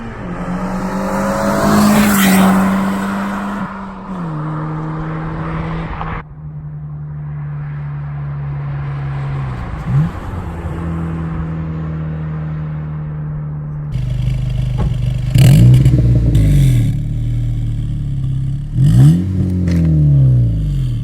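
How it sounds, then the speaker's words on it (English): A 9th gen Honda Civic Si's engine and exhaust during driving runs, rising and falling through loud revs, sharp upshifts and deep droning stretches, with raspy bursts and short tire chirps toward the end. "the sound of the engine and exhaust"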